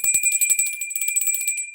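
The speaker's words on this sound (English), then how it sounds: "So I'm going to ring the bell." A bell rings with rapid, bright, repeated strikes close by, sounding like a quick trill with a high sustained ring, and no talking.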